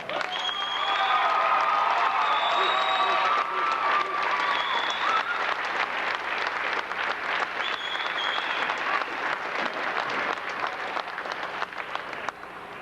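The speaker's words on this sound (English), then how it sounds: "I think we should give this team a round of applause" Crowd applause for a boys' high school basketball team at a Tri-Valley League championship, sustained and loud, with scattered cheers and whistles, thinning toward the end.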